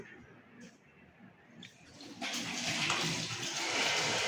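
Running water pours from a tap as hands are washed, starting faint and swelling into a steady loud rush in the second half, with soft domestic clatter before it.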